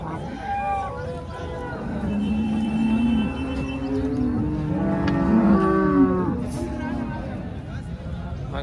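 Cows and buffaloes low at a busy livestock market in Kopargaon. Several long, drawn-out moos rise and fall over a steady murmur of crowd and market noise.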